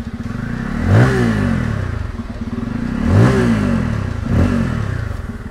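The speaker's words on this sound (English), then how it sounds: "someone's revving the bike at the rear, so it sounds quite good" A Bajaj Pulsar motorcycle, N250 or F250, revs through its exhaust at the rear of the bike, loud and close over a steady rumbling idle, with three distinct throttle blips rising and falling.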